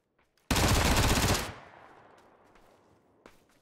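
A single loud burst of rapid automatic VSS rifle fire in PUBG lasts about a second, then fades into a long echoing tail with a faint sharp click near the end.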